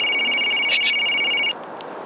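A telephone rings with a loud, steady electronic trill that holds for about a second and a half, then cuts off abruptly, leaving only a faint room hum.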